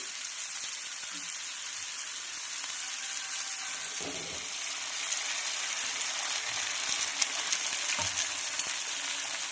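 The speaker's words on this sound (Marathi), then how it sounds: "तर आपण यावर घालणार आहोत आता फोडलेली अंडी" Beaten eggs for street-style anda bhurji fry in a pan over already-sautéed ingredients, giving a steady bright sizzle throughout, with a few soft scraping stirs at intervals and no talking.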